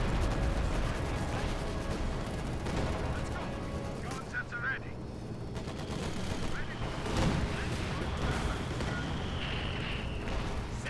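A dense, continuous rocket barrage in the WWII strategy game Company of Heroes 2, with German forces on the Western Front: rapid overlapping launches and explosions forming a steady roar, with occasional voices mixed in.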